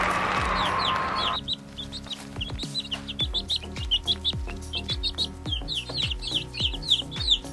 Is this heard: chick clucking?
yes